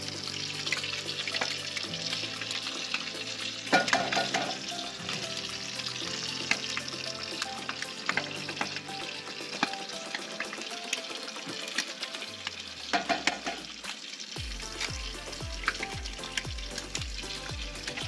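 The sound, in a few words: making scrambled eggs with milk and Worcestershire sauce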